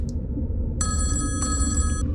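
A phone rings in two clear, close bursts of a bright electronic tone, separated by a short pause, with a low background hum underneath.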